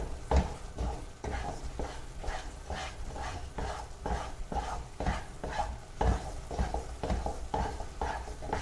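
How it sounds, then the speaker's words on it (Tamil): Thick almond halwa is stirred in a pan with rhythmic, repeated scraping strokes of a spoon, each sweep about every half second, over a low steady sizzle. "கொஞ்சம் கிளறினோன்னா அல்வா ரெடி ஆகிடும்."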